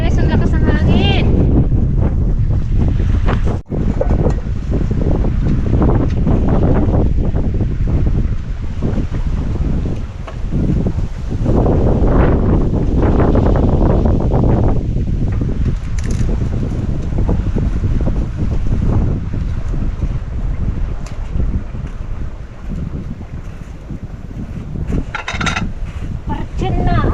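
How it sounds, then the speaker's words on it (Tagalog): Strong wind buffets the microphone outdoors beside a riverside garden, roaring steadily and gusting throughout, with voices talking underneath. "Goodness, ang lakas ng hangin."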